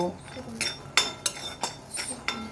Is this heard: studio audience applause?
no